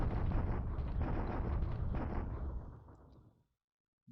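Heavy bombardment explosions in a World War II strategy video game roll together as a dense, booming rumble that swells and then fades out to silence near the end.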